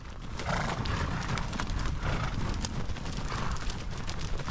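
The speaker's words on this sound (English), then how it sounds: "The horse drive is underway." A herd of horses gallops on a horse drive, their hooves clattering in a dense, continuous clip-clop close by, with an occasional neigh and no talk.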